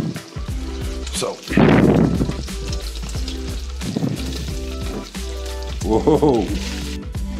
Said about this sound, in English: To the bacon, I'm gonna add the onions and the garlic.